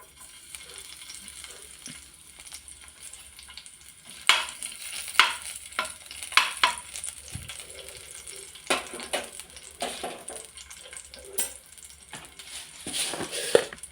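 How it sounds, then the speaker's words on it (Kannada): Crushed garlic frying in a little oil in a pan gives a soft continuous sizzle, broken by several sharp clinks and scrapes of a spoon against the pan. "ಇಲ್ಲಿ ನಾನು ನೋಡಿ ಎಣ್ಣೆಯನ್ನು ಹಾಕಿದ್ದೇನೆ ಸ್ವಲ್ಪ ಈಗ ಇದಕ್ಕೆ ಬೆಳ್ಳುಳ್ಳಿಯನ್ನು ಹಾಕುವ ಸ್ವಲ್ಪ ಜಜ್ಜಿ ತಗೊಂಡಿದ್ದೇನೆ ಬೆಳ್ಳುಳ್ಳಿ"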